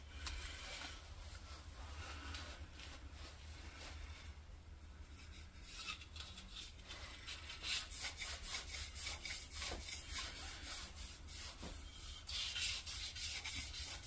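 Sandpaper lace pulled back and forth around a Mustang crankshaft journal, giving a continuous rhythmic rasping that grows more rapid and pronounced in the second half.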